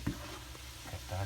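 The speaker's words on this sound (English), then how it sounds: "I'm just gonna saute this for a bit." Celery sautéing in a pan, a soft low sizzle with a couple of faint stirring knocks, quiet and close.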